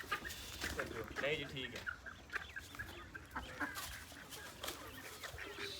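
Chicks in a poultry yard peep and cheep repeatedly near the listener, mixed with adult clucking, while a person talks over them.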